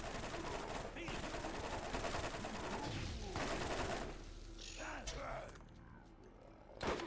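Steady gunfire from Borderlands, The Zombie Island of Dr. Ned, with repeated shots and mechanical clatter running through most of the stretch before tapering off, and a voice talking over it.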